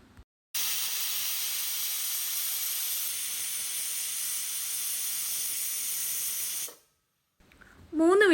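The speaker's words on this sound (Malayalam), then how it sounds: "എന്നിട്ട് ഈ കുക്കർ അടച്ചു വെച്ചിട്ട് ഒരു 3 വിസിൽ വരുന്നത് വരെ ഇതൊന്ന് കുക്ക് ചെയ്തെടുക്കുകയാണ് ചെയ്യണത്." A pressure cooker on a gas stove vents steam in a loud, steady hiss lasting several seconds before cutting off, followed by faint kitchen sounds.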